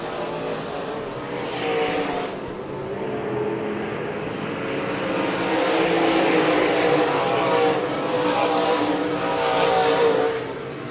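A pack of race cars roars around an oval track into turns 1 and 2, a continuous loud engine drone that swells and ebbs as the cars pass, with no speech over it.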